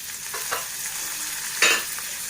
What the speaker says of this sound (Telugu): ఆనియన్స్ కూడా దోరగా వేయించుకోవాలి